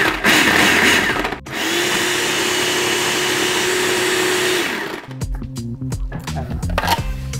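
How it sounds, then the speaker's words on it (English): A food processor whirs steadily as it blends salmon with black pepper and salt into a firm puree, a loud continuous motor drone that cuts out near the end, followed by clattering and handling noises. "Blend this until it's a firm puree."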